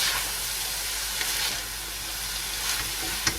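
Mixed stir-fry vegetables for lumpia spring roll filling sauté in a hot pan, giving a constant dense sizzling hiss with a few brief stirring clicks, close up and with no voices.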